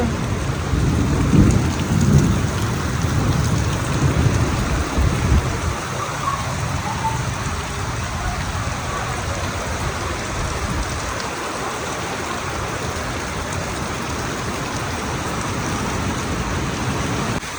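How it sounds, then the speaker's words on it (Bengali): Heavy monsoon rain pours down in a thunderstorm as a dense, unbroken hiss, with deep rumbling thunder rolling strongest at the start, close and loud throughout. "আকাশের অবস্থা খুবই খারাপ, এই তুফানের মধ্যে অনেক তুফান হইতেছে।"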